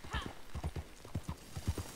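A horse in the video game Red Dead Online walks with an even, close clip-clop of hooves in a steady four-beat rhythm, and a voice talks faintly under it.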